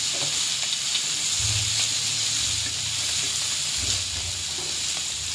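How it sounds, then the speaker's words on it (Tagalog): Tamban sardines fry in a covered pan, giving a steady, close sizzle and hiss throughout, with a few low rumbling bursts from the pan and no talking. "Inihaw na tamban sa kawali."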